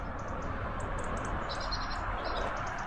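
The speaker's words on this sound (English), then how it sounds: "Cool, you can hear all the birds singing." Several birds chirp and tweet in short high bursts over a steady low rumble of distant traffic.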